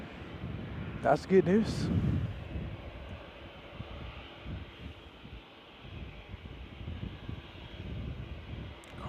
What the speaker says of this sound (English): seems like Zipair is going to be taking off out of the one right